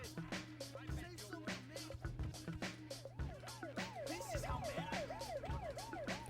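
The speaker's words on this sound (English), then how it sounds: "I think the guy chasing me just got hit by the police car." A police car siren wails in a GTA video game, its rising and falling cycles sounding over busy traffic and crashes, with faint talk in the background.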